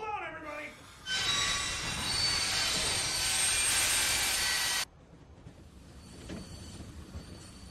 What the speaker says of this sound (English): what are we stopping the train for